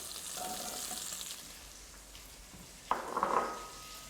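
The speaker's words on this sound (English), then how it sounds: "I'm just going to fry these over a high heat just to get some colour on them." Pancetta and peeled pickling onions frying in a pot over high heat, a faint steady sizzle with a louder burst of crackling and a light utensil clatter near the end.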